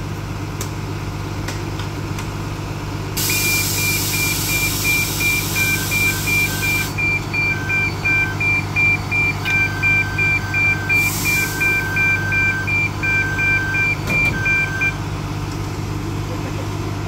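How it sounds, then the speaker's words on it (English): A shuttle bus at the Fort Wilderness campsite at Disney World gives a long run of steady, evenly pulsing electronic beeps over a low idling engine rumble and hiss, moderately loud and close. "Yeah, that was beeping."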